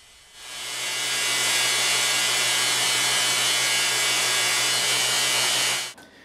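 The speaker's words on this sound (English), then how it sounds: "Here I'm grinding a convex grind on a slack belt fixture." A belt grinder runs steadily as a knife edge is ground to a convex profile on a slack belt with no hard backing, a loud, even abrasive hiss that spins up, holds for several seconds and cuts off.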